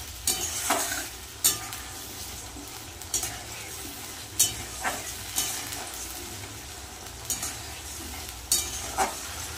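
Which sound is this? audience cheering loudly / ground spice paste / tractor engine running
ground spice paste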